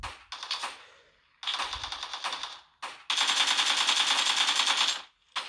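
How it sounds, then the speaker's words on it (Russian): Rapid automatic gunfire from a mobile shooter game plays in long, rattling bursts with brief gaps between them, steady and fairly loud, with no talking. "Сзади кто-то стреляет, что ли, нет?"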